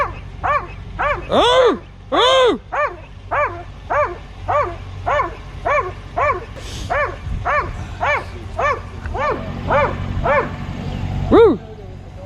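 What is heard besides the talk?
dog barking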